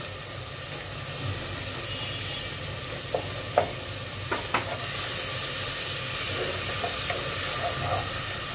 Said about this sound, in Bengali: এখন এই হাফ ভাজা পেঁয়াজের মধ্যে আমি 1 টেবিল চামচ রসুন দিয়ে দিব, বাটা রসুন